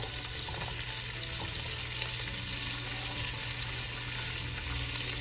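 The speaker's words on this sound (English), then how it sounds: "So add in our onion and our celery." Onion and celery sizzle in a hot soup pot for Tuscan chicken soup, a steady, close frying hiss that runs evenly throughout with no talking.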